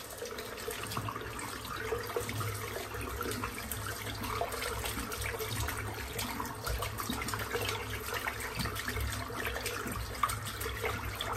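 A boar-bristle shaving brush is rinsed under a running tap during a head shave, with a steady, moderately loud rush of water that continues through the whole clip and no talking.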